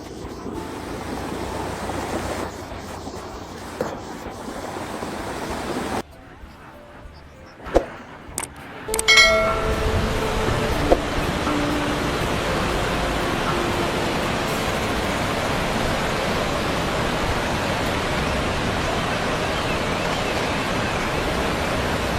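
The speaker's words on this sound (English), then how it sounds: "This record-breaking flood has caused traffic to almost come to a standstill, with many roads submerged in water." Record-breaking floodwater rushes through the submerged streets of Zhengzhou as a steady, loud roar of churning water. A few brief knocks sound before it settles into continuous rushing.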